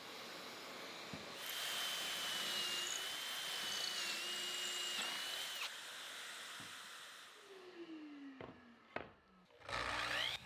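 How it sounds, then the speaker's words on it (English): Power drill driving pocket holes into hardwood boards for a stand-up planter, a long steady whirring run followed by shorter bursts near the end, moderately loud in a quiet workshop with no talking. "the next step is to drill more pocket holes on the inside so I can attach these parts to the legs"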